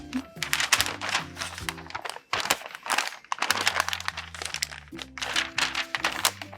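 A paper sewing pattern is folded by hand: close, repeated crinkling and rustling of paper in short bursts, with a brief pause midway and background music underneath.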